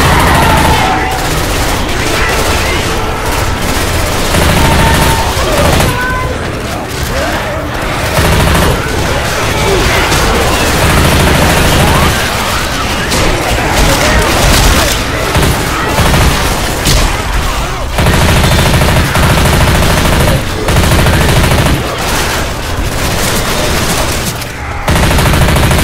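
Loud, dense gunfire from Left 4 Dead 2, with rapid bursts and booms nearly throughout, while voices shout over the shooting.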